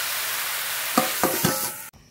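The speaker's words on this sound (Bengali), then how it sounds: "ঢেকে দিয়ে খুব ভালো করে কষিয়ে নেব।" Taro curry with salt and turmeric stir-fried in a pan: a loud, dense sizzle throughout, punctuated by three quick scraping stirs of a spatula before the noise cuts off abruptly, as if a lid drops.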